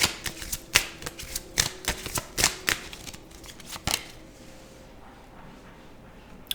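A tarot deck being shuffled by hand, a quick run of crisp card riffles and flicks that stops after about four seconds, leaving only faint room noise.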